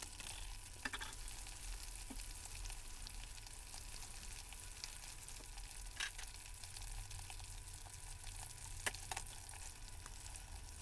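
Chicken wings fry in a pot of oil with a continuous soft bubbling sizzle, fairly quiet and even, with a few scattered clicks and scrapes of stirring.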